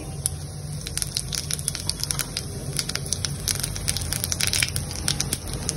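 Cumin seeds sizzle in hot oil for a tempering, a dense and continuous close-up crackle of quick, sharp pops and spitting over a steady background frying hiss.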